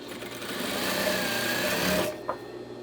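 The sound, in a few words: sewing machine stitching a straight hem on drapery panel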